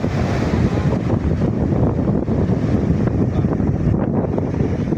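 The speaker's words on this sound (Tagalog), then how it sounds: "Ang lakas po ng alon" Strong surf pounds Casapsapan Beach in Casiguran, Aurora, after Typhoon Uwan, a loud, continuous roar of waves mixed with heavy wind buffeting the microphone.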